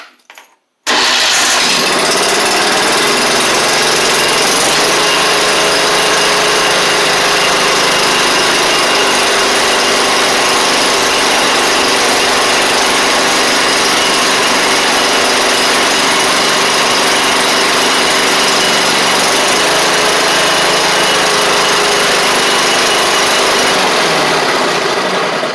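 A John Deere L110 lawn tractor with a worn starter fires up after a brief moment of quiet, then its small engine runs loud and steady for about twenty-five seconds with no talking.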